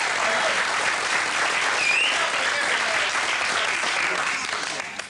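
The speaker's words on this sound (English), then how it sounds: "give them a big round of applause" Loud, dense applause from a large TV talent show audience, steady throughout and tapering slightly at the very end.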